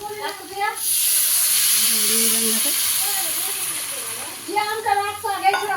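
Water poured into a hot pan of frying Bengali egg curry bursts into a loud, steady steam hiss that holds for several seconds and slowly fades, with someone talking before and after.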